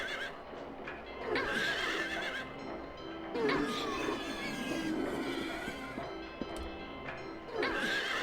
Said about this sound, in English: Make sure you slash all the horses before the carousel kills you.